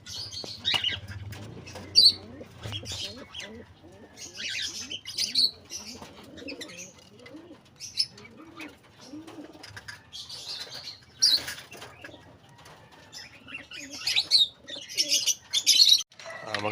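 Racing pigeons at a loft coo softly and repeatedly, with intermittent wing flaps and scattered chirps, close by and fairly quiet against a calm background.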